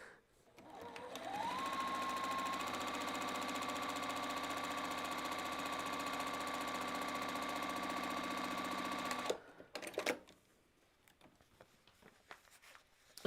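A 10-needle embroidery sewing machine spins up and runs at a steady, loud mechanical whir with a rising then level pitch, stops abruptly, followed by a few clunks and quieter rustling.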